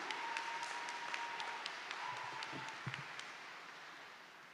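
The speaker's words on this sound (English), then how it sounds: "Can we give Mr. Napoli and the choir another round of applause?" Faint, distant applause rolls through a high school commencement ceremony for the concert choir, a soft continuous patter with a few individual claps popping out close by.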